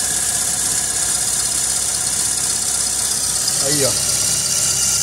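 A car engine with a grounding fault idles steadily, a constant mid-pitched hum and faint knocking vibration heard up close, while someone briefly speaks over it.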